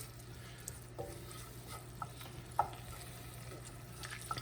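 Crumbled sausage frying in grease in a pan, with a quiet sizzle under a low steady hum and a few soft spatula taps and scrapes, faint and close.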